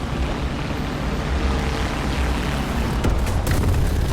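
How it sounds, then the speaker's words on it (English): Heavy rumbling bomb blasts in the War Thunder combat game, a dense continuous roar of explosions with a sharper burst near the end, no talk over it. "Hopefully he missed those bombs, and he did."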